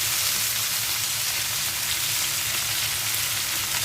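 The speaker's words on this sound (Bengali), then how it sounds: "আরেক পাশে আমি করলা ভেজে নিচ্ছি।" Bitter gourd, potato and onion fry in a pan, giving a steady, dense sizzle that holds at an even level from start to finish with no pauses and no voices.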